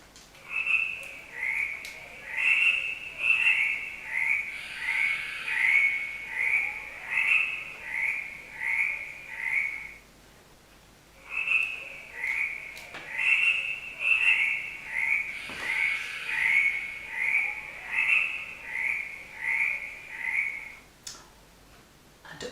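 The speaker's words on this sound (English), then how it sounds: "you'll hear lots of tree frogs peacefully croaking" Tree frogs croak in rapid, rhythmic pulsing chirps, two long choruses separated by a brief lull, steady and moderately loud in the night air.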